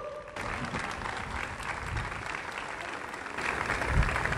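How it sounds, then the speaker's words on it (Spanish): Audience at a live comedy show on a pedestrian street stage applauds steadily for about four seconds, a dense, even wash of many hands clapping that swells slightly near the end. "Un aplauso, por favor"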